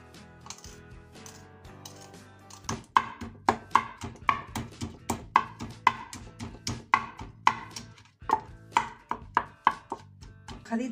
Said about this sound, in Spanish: Ahora vamos a cortar un poquito de pimiento